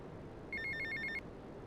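A payphone in GTA Vice City rings in a short burst of rapid electronic trills, clear but moderately quiet over a low background hum.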